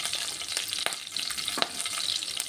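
Whole spices (cardamom, cloves, cinnamon, caraway cumin) frying in hot oil with green chilli, giving a bright steady sizzle with a few scraping stirs close by.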